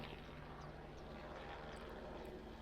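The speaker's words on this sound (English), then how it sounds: "let's wait for the fucking plane to pass" An airplane passing overhead, heard as a faint, steady, broadband rumble that stays even throughout with no talk over it.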